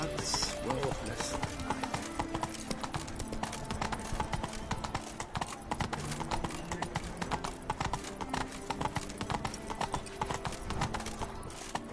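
A video game horse named Roach gallops in a fast, steady clip-clop of hooves with an occasional snort, while voices speak now and then over the rhythm.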